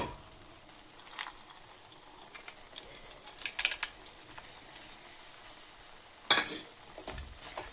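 Carrot halwa stirred in a pan after dry fruits go in, a spoon scraping and clinking in a few quiet bursts over a low sizzle.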